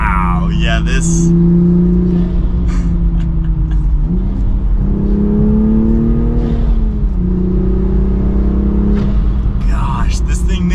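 Loud, close engine note from a manual Toyota Supra with a carbon fiber Armaspeed intake, revving in repeated climbing pulls separated by shifts, with a deep rumble underneath and short sharp bursts of intake noise.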